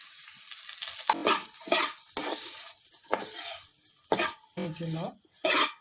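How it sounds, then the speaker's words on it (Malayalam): Flattened rice (aval) drops into hot ghee for payasam, giving bursts of crackling sizzle and stirring scrapes that rise and fall in uneven clusters, loud and close, with quiet gaps between them. "നെയ്യ് ചൂടായിട്ട് നമുക്ക് ഈ ഗ്ലാസ് ഒരു അവല് ഇതിലിടുന്നുണ്ട്"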